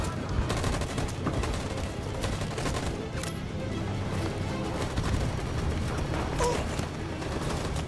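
Sustained gunfire from a video game shootout in Detroit: Become Human, dense overlapping shots and automatic bursts rolling continuously at steady loudness, with a voice briefly heard.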